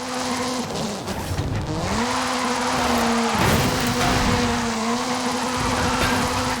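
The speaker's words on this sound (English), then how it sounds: "This is Mr. Kenneth Block's Hooligan Gymkhana 10 Ford Focus RS RX. 2-litre, turbocharged, front-mounted engine and all-wheel drive" A Ford Focus RS RX with a 2-litre turbocharged front-mounted engine and all-wheel drive drifts in Forza Horizon 5, its engine loud and wavering in pitch as revs rise and fall, under continuous tire squeal.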